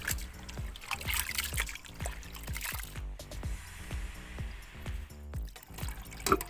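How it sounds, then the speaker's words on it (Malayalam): Water swishes and trickles as wheat grains are rinsed, with steady splashing and small clinks throughout, fairly close. "നമുക്കിനി ഗോതമ്പ് ഒന്ന് കഴുകി വാരിയെടുക്കാം"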